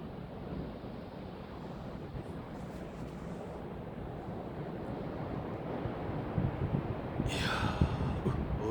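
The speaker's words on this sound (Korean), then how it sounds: "진짜 파도 오늘 바람이 막 샘하네. 저 파도 한번 보이소." Wind buffets the microphone on a snowy winter coast at Jeongdongjin while ocean waves surge and break nearby, building louder toward the end.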